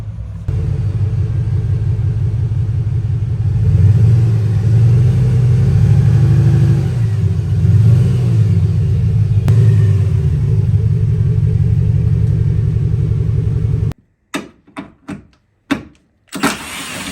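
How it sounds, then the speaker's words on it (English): A Pontiac Grand Prix GXP rolls in under a steady, loud engine rumble for about fourteen seconds, then the engine cuts off and a few sharp clunks and knocks follow close by. "Let me get the car pulled in and get started."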